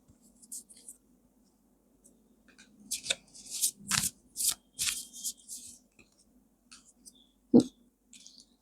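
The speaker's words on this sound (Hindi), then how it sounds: "Okay, let's draw some more cards to get a better understanding." Tarot cards are shuffled and drawn in a soft, close series of papery riffles and slides in short bursts, with a quiet hum underneath and one sharper tap near the end.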